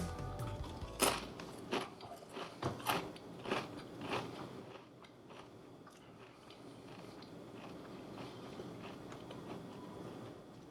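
Spicy corn chips are bitten and crunched up close, several sharp crunches at first with irregular spacing, then fading into quieter soft chewing, with no talking.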